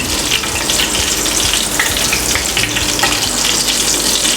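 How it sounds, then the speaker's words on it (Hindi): Chicken and vegetable kebabs fry in oil with a loud, dense, continuous sizzle and crackle close to the pan, with no voices over it. "बाकी कबाब भी मैं इसी तरह फ्राई कर लूँगी"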